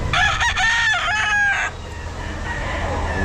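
A rooster crows loudly at a busy pet market, its harmonic call stretching over the first half of the clip before fading into the general crowd and market noise.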